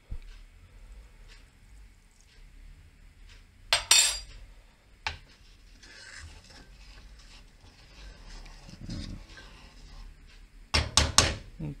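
A spoon adds sugar to warm rice pudding with scattered metallic clinks and scrapes against a pot, including a couple of sharp louder clatters, in a quiet kitchen.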